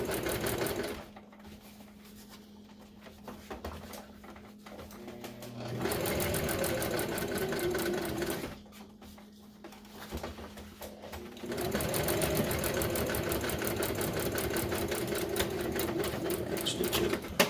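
A cheap domestic sewing machine stitches upholstery for a 1966 GMC truck seat, giving rapid rattling needle chatter in several bursts of a few seconds each, with quieter pauses between runs, close and without talk.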